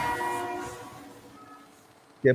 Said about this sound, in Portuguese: Não, foi o trem. Isso é o trem,